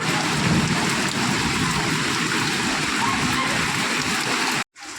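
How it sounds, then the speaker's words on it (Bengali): Heavy monsoon rain pours steadily outside a window, a dense, loud, continuous hiss of falling water that cuts off abruptly near the end. "তা দেখো খুব জোরে কিন্তু বৃষ্টি এসেছে"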